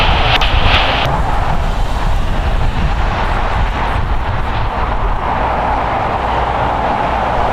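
A jet airliner taking off from runway 25 right at Los Angeles International Airport: a steady, loud engine roar that holds for the whole stretch with no breaks and no talk.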